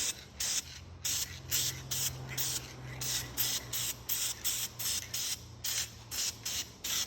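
A spray can applies engine enamel paint to a Yamaha Banshee engine in short, repeated hissing bursts, about a dozen quick sprays with brief gaps, heard up close over a low background hum.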